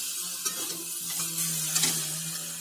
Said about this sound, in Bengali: এবার এইগুলোকে ভালো করে নেড়ে চেড়ে কষিয়ে নেবে।